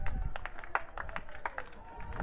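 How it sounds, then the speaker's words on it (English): A small but vocal crowd at a national federation cup athletics meet cheers and claps in encouragement, a steady wash of scattered applause and shouts, with a commentator talking over it. "from the crowd, which is present in lesser number but quite vocal and quite encouraging"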